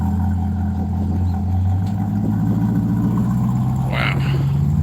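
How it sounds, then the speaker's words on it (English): A sports car at a Cars & Coffee meet in Las Vegas holds a steady low exhaust rumble close by, idling evenly with a faint rise in pitch, while crowd noise and occasional voices drift underneath. "This thing sounds clean, man. I like that exhaust."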